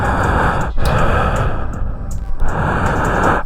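A man breathes heavily on a voicemail recording, with slow, loud, rasping inhales and exhales close to the phone and a brief gap between breaths.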